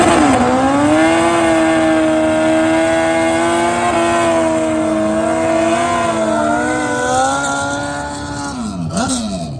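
A Suzuki GSX-R 1400 drag bike at a big Australian drag racing event holds a loud, sustained high-revving engine note with rising and falling pitch, ending in a sharp drop as the run finishes.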